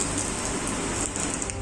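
Rain falls steadily in a dense, even hiss at a district hospital ICU in Raigarh, with no pauses or voices.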